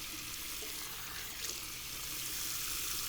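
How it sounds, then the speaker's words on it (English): Cold water splashed on the face over a sink after a wet shave, a steady broadband watery rush with a few brief splashes, fairly faint and continuous with no talking. "All right, cold splash."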